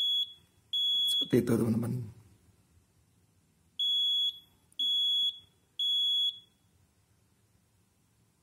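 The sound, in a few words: Arduino buzzer temperature alarm sounding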